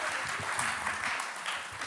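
An audience at a speech event claps together in a continuous burst of applause, steady and fairly full, lasting just under two seconds.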